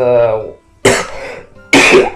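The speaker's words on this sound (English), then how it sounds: "there's that one point where I just cough and have to say sorry" A voice trails off, then two sharp, close coughs follow with a short gap between them, each loud and raspy.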